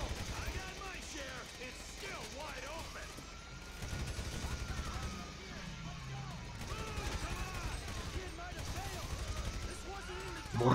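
Steady gunfire crackles through a match of GTA 5 on PC, with continuous shots and bursts layered over game noise for the whole stretch, loud and dense with no pauses.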